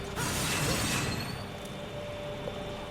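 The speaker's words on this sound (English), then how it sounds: "Exceed meter. Oh, basically rev the blade." Revving sword blade in Devil May Cry 4, a mechanical grinding, ratcheting whir that bursts in loudly, then settles into a steadier metallic churn with a few sharp clicks.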